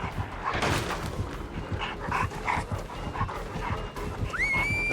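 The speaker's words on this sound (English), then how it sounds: "Dog. That is a dog." A dog in the video game Dead by Daylight barks and pants in quick repeated bursts, close and fairly loud, with a rising synthetic tone from the game near the end.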